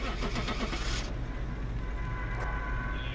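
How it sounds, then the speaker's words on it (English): Vehicle engine in the Phasmophobia ghost-hunting game, a truck starting with a loud steady low rumble and a sharp high onset at first, then a continuous droning idle running throughout without speech. "They can hear the truck sound like from across the goddamn map."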